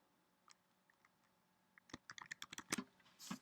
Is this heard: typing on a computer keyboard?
yes